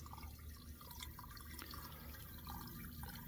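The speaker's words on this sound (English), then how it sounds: "So we're siphoning out of the pond, a bit siphoning pipe" Water siphoned out of a koi pond through a tube and pipe toward a drain in freezing winter weather, a faint steady trickle and gurgle with small drips, continuous and close, no voices.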